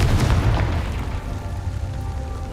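A Confringo spell blast from the Hogwarts Legacy video game booms loudly, a heavy burst that fades into a low rumbling tail over a couple of seconds.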